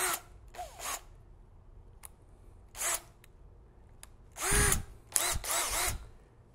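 A cordless drill in hammer mode fires in several short, loud bursts separated by pauses, with a rattling, hammering edge to the motor noise.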